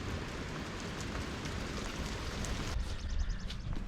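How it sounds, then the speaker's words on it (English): Steady rain pours down during a storm, a dense continuous hiss of drops on surfaces with a slight surge near the end, no voices. "Yep, there it is. Raining, raining, raining."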